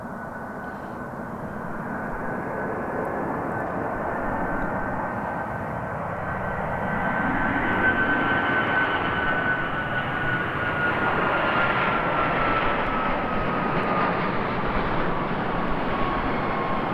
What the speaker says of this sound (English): So this is San Francisco bound 737 from United.